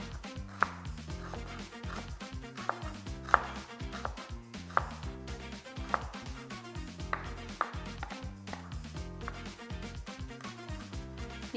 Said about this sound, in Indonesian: Ini tinggal kita cincang kasar aja